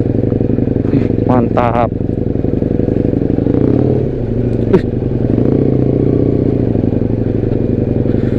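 Husqvarna Nuda 900R motorcycle engine droning loudly up close as the throttle opens on a ride, a continuous rumble with brief clatter and a short voice heard over it.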